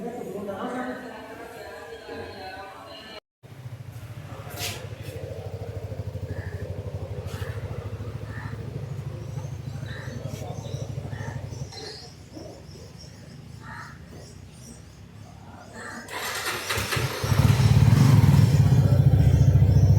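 A Suzuki V-Strom motorcycle engine starts and idles with a steady low rumble, quieter through the middle and swelling louder near the end, with faint background chatter and birdsong around it.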